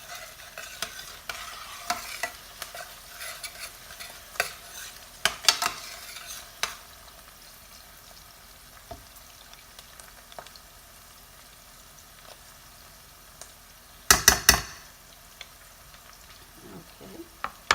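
A spoon scrapes and clinks in a pan as a bouillon cube is stirred into salmon gravy, with scattered taps over a faint simmer and a short burst of louder clatter near the end.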